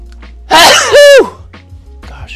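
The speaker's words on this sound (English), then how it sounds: "That was a wild sneeze." A single loud sneeze bursts out close by, a sharp inhaled gasp followed by an explosive, tonal release, with quiet room tone and a faint breath afterward.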